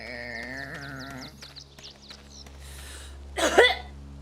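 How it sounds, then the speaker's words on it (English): Bleating sheep or goats sound first, then a person coughs a couple of times close up, a short harsh burst near the end. "Sorry, the cough sounds so fake"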